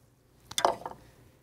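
Beef broth is poured into a pot of chili cooking on a Big Green Egg, a short soft splash and drip of liquid lasting under half a second in a quiet setting.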